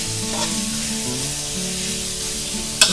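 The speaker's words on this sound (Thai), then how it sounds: "เราจะผัดแค่พอกุ้งสุกก็พอนะคะ" Shrimp stir-frying in a hot pan, a steady dense sizzle with a few soft stirring scrapes and a sharper clink near the end, close and continuous with no speech.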